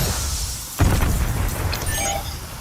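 A single deep boom from an in-game explosion in an online shooter erupts abruptly, loud and close, then trails off into a rumbling, debris-filled tail.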